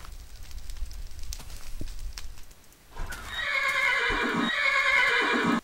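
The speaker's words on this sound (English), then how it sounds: "Yes, I hear you, horsey." A horse in the video game Minecraft neighs and whinnies loudly in the second half, with a clip-clop of hooves and a soft crackling fire beneath, after a quieter stretch of faint ticking background.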